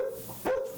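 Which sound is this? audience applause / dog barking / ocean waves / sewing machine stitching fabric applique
dog barking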